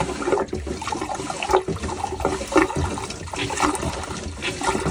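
Water rushes and splashes steadily through a Jabsco marine toilet pump during rinsing, a continuous close gurgling flow with irregular sloshing surges and no talk.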